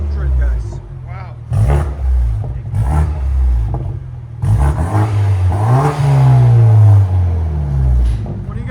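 A 2014 BMW 228i with a 2.0L turbo, downpipes and dual Dynomax Race Bullets exhaust revs loud and close, with a deep droning note that climbs and falls through several pulls, and a voice talks over it in places.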